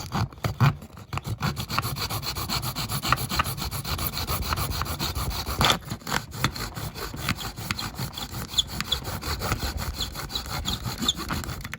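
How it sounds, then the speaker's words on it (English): Hacksaw cutting through a Majorette diecast limo model, steady back-and-forth rasping strokes close up, continuous and fairly loud with a brief pause midway, no talking. "get a hacksaw out, I think"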